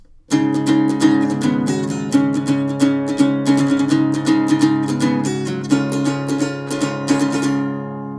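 An electric guitar riff rings out with sustained, layered chiming notes and a steady picked rhythm, loud and alone.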